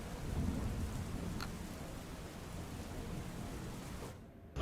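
Steady heavy downpour in Banaskantha, a dense hiss with a faint rumble of thunder beneath, then cuts off abruptly at the end.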